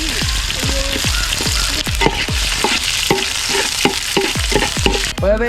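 Onions and curry leaves fry loudly in a pan, a steady sizzle broken by a regular series of scraping stirs and clanks of a spoon against the metal, close up with no voices.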